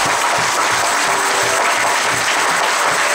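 Audience at a church Christmas party breaks into steady, dense applause, loud and continuous throughout with no voices rising above it.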